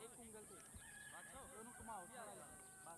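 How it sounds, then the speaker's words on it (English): Chickens or cockerels squawk and cluck noisily at an outdoor cricket match in Cyprus, a run of rising and falling calls that sound fairly distant and faint against a hissy background. "The chickens are going balmy at the moment,"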